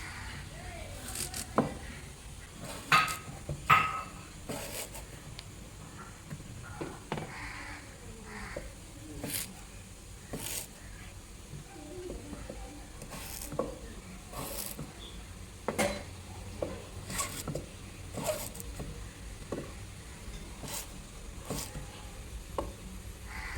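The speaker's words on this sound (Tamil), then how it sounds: "அதே மாதிரி எல்லா வெங்காயத்தையும் கட் பண்ணிப்போம்" A knife chopping onions on a cutting board for a North Indian onion, chicken and potato gravy, with irregular close taps and cuts scattered over steady kitchen background noise.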